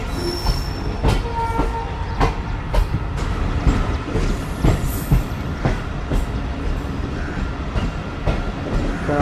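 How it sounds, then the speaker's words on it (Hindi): A Sukkur Express passenger train rolls into Malir railway station in Karachi after rain, wheels squealing on the rails amid rhythmic clatter and scattered metallic clanks, loud and continuous. "फाइनली मली रेलवे स्टेशन पर अप्रोच बना रही है ट्रेन"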